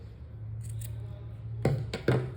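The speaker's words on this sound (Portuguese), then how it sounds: "vamos cortar esse fio" Scissors snip through crochet yarn while a crochet bag is being finished, giving two or three short, crisp cuts near the end, close and fairly quiet over a low steady hum.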